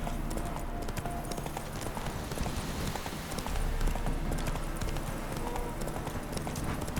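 Geralt's horse Roach trots in the video game The Witcher 3, its hooves making a steady, rhythmic clip-clop that stays quiet and close, with faint ambient background.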